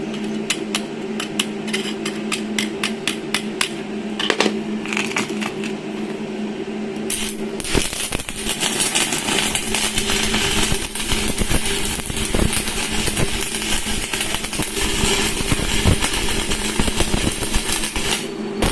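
A heavy-duty arc welding plant burning a 3.2 mm rod gives a steady loud machine hum, then a dense, continuous crackling buzz of the arc that carries on without a break.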